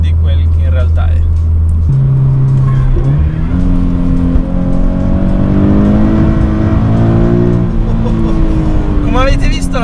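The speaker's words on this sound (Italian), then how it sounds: "la macchina è un pochino partita di traverso ed ero a gas parziale, non ero su tutto" A Toyota GT86 sports car accelerates hard, its engine rising in pitch through a loud, close rev and then dropping after a gear change. Tyre squeal comes in near the end as the car slides sideways.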